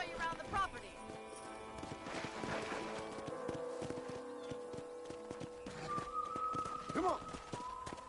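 Horse hooves clip-clopping in the Western video game Red Dead, a steady walking rhythm under game music and ambience, with a short whinny near the end.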